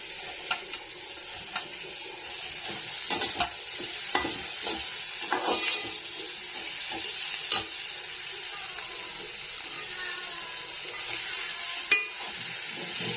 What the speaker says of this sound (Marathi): तिकडे तळायचे चाललेत अजून गरमागरम मंचुरियन